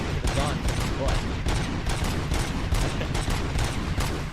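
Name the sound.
RoboCop video game gunfire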